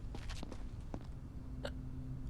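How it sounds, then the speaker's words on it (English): A few soft, quick hiccups sound close by against a low steady hum, spaced irregularly over a couple of seconds. "Hiccups."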